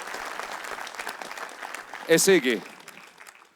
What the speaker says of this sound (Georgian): აპლოდისმენტები დამსახურებული.